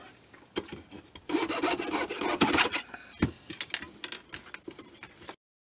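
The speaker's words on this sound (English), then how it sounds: "for this sort of work, you can't really do better than an old miter box." An old miter box guides a hand saw through small stock for HO-scale model mining-town structures, giving close, rasping back-and-forth strokes in bursts for about five seconds, then silence.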